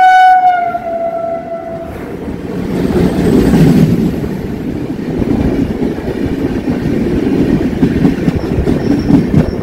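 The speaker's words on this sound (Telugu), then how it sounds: "ఏదో ట్రైన్ వస్తుందండి." A train rolls past on an Indian Railways line, heard from a traveller's position: an opening horn blast gives way to loud, steady wheel rumble and rhythmic clatter of carriages over the track, sustained and close throughout.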